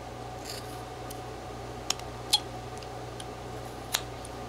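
A knife whittles a small figure from a wooden block, making a few short, faint scraping cuts spaced apart over a quiet, hissy background.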